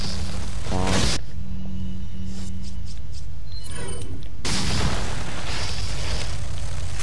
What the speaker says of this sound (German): Es ist eine Blendgranate.